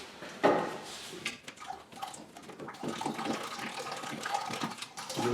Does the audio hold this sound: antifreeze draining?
yes